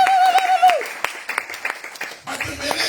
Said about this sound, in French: Les acclamations pour Jésus.